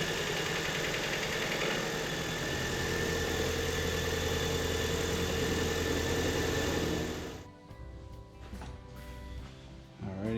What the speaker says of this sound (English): I'm going to start it up, let the engine run a little bit